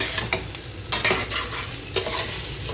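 Homestyle pulao rice is stirred in a pan, bursts of scraping and rustling from the spoon over a soft frying sizzle, close and clear, with a few sharper clinks and no voices.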